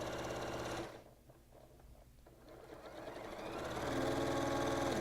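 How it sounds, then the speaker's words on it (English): A sewing machine stitches a quilt piece, its steady motor whir stopping briefly and then rising back to a loud, continuous buzzing run. "And let's go ahead and give that a sew."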